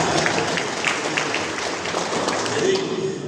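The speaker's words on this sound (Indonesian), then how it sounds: "Ya tepuk tangan untuk Ilu." A crowd applauds Ilu at a regional gathering, steady dense clapping filling the space throughout at moderate loudness, with a voice faintly audible underneath.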